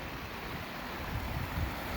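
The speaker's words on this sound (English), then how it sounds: "There's all these little streams and waterfalls all over the place." Small mountain streams and waterfalls along an alpine trail on Handies Peak, Colorado, make a steady, even rushing wash that continues throughout without breaks.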